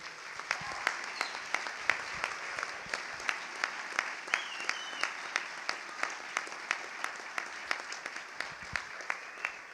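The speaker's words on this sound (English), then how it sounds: "Why don't we all give an incredibly appreciative round of applause for all of these people who put this on" An outdoor bushcraft gathering's audience gives a sustained round of applause for the organizers, dense steady clapping from many hands with sharp individual claps standing out throughout.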